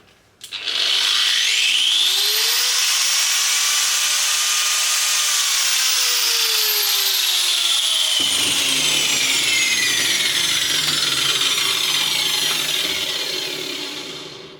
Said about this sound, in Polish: Szlifierka kątowa 1100 W.